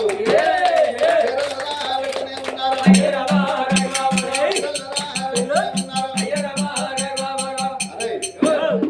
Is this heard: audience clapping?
yes